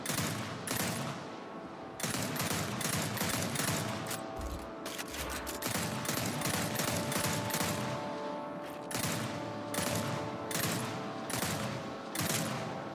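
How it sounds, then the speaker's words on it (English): Rapid paired shots from the Relic Snub pistol in Gears 5, bursting in dense clusters over a steady backdrop of game noise and effects. "This variant allows us to shoot 2 bullets at a time, and you get to shoot both of those bullets with very good accuracy"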